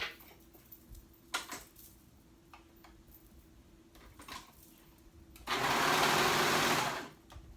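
Sewing machine stitching sleeves onto a jacket: a faint hum with scattered ticks and short stitching bursts, then a loud, steady run of fast stitching for about two seconds near the end.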